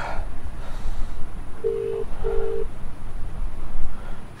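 A phone call rings unanswered, heading to voicemail: two short, steady ring tones in a row, fairly faint over a low background rumble and hiss, with no one talking.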